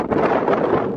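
Strong wind at a beach roars and buffets the microphone in a steady, rough rush with no voices.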